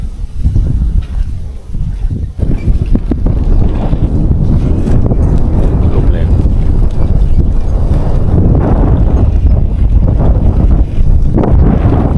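Strong wind blowing between valleys at a campsite in Chonburi, Thailand, a loud continuous roar with heavy buffeting on the microphone that gusts and rumbles throughout.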